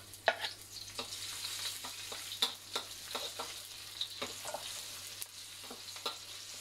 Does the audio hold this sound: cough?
no